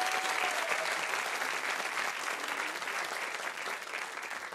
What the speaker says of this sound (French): Je vous demande de faire du bruit pour Louise quand même